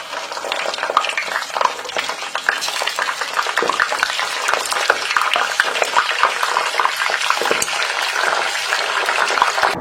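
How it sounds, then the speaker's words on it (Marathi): Stuffed brinjals fry in hot oil in a pan, giving a loud, steady sizzle and crackle with occasional stirring and scraping sounds. "आता बाकीची वांगी तळून घेऊया"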